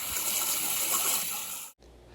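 Gentle hot water sprays steadily onto a bighorn sheep skull in a continuous hiss, close and moderately loud, then cuts off abruptly, leaving a faint low hum.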